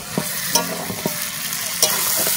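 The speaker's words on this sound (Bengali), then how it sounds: "ভালো করে কষাতে হবে নেড়ে নেড়ে" Chicken sautéing in oil with a continuous close sizzle and a few distinct stirring scrapes of a spoon against the pan, no voices.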